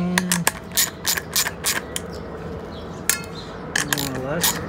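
Ratchet tie-down strap being cranked tight, a run of sharp metallic clicks in uneven bursts with short pauses between strokes, close and fairly loud.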